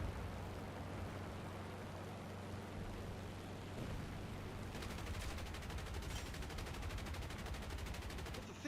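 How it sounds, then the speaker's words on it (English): Aircraft cannons fire in rapid automatic bursts during a War Thunder air battle, a faint, dense rattle that grows sharper and more rhythmic in the second half over a low engine drone. "Fire your cannons."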